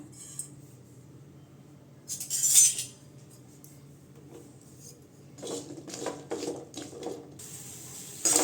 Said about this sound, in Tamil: வெண்டைக்காய் நல்லா வதக்கிக்கலாங்க எண்ணெய் ஊற்ற வேண்டாம் சும்மாவே வதக்கிக்கலாம்